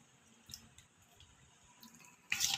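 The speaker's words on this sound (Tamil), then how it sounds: "வெதுன்னு தண்ணியில் அதே கப்பில் அரை கப் அளவுக்கு இதில் சேர்த்துக்கிறேன்." Warm water is poured into semolina for a crispy evening snack. A few small drips and clicks come first, then a short, close splash of pouring at the end.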